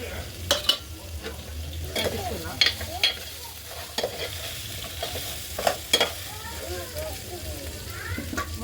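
Goat head meat fries in a pot of onion, chili and ginger-garlic masala over a wood-fired stove. Soft sizzling continues under repeated scraping and stirring strokes with a few sharper clinks. Faint voices can be heard in the background.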